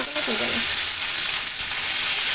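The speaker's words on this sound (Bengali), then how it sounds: "পেঁয়াজ দিয়ে দিলাম এটাকে আমি এবার ভালো করে ভেজে নিব" Chopped onion frying in hot oil in a pan with cardamom and cloves, a steady, close, bright sizzle throughout, with a brief voice sound near the start.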